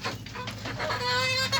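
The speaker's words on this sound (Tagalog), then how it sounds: "Ito nga aking mga alaga mga manok" Pet chickens clucking during feeding, a brief burst of close, busy clucks and murmurs over a low background.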